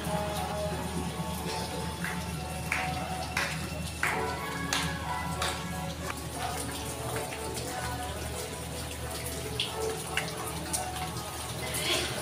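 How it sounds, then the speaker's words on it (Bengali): Waterfall water splashes and patters constantly outside a Bajrangbali Hanuman temple at Shivgadi Dham in Jharkhand, with a thin flow during hot weather, producing a close, steady trickle with scattered drips and someone talking over it. "ঝর্ণার জল পড়ছে প্রতিনিয়ত"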